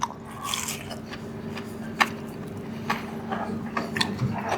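Bites into McDonald's mac and cheese bites from the UAE give soft, close crunches and chews, with one sharper crunch partway through, all fairly quiet with no talking.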